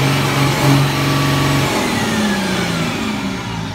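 Car engine revving hard with two-step launch control, loud and close, with a sustained high rev that wavers and then holds a steady pitch before easing slightly.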